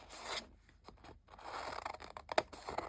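Scissors snip and slice through craft material in a quiet room, a series of short crisp cuts and rustles with one sharper snip near the end, no talking.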